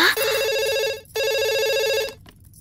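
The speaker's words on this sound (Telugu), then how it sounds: "తల్లి గుర్తుకొచ్చి పబ్లిక్ ఫోన్ నుంచి అబ్బాయి ప్రైవేట్ గా ఫోన్ చేస్తాడు." A telephone rings in two long electronic trilling bursts with a brief gap between them, loud and close, then cuts off.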